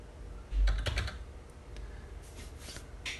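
A short burst of computer keyboard typing sounds up close, with a few quick clustered keystrokes and then lighter scattered taps.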